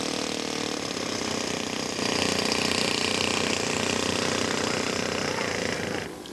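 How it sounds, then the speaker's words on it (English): A scale model airplane with an OS 90 four-stroke engine runs continuously at a flying competition, a steady droning buzz that rises slightly in pitch partway through, then drops off at the end. "This model is also 15 pounds and powered with an OS 90 four-stroke engine."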